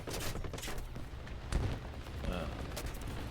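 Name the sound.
aircraft gun firing in video game War Thunder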